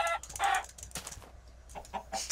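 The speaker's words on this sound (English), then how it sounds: "Why are there so many chickens?" Chickens in the Minecraft video game cluck in short, bright bursts, a few quick calls followed by softer scattered clucks, with no speech.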